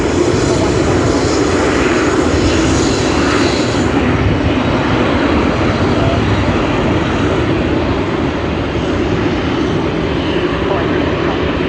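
An Emirates Airbus A380 airliner at Sydney Airport roars loudly and steadily throughout, a dense broadband engine rumble with a brighter hiss early on that eases slightly after a few seconds.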